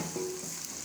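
Okra with onions frying in a pan for bhindi masala, a brief soft sizzle with faint hiss and a light stirring scrape, quiet and close.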